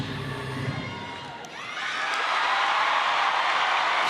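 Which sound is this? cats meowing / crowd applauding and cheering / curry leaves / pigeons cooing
crowd applauding and cheering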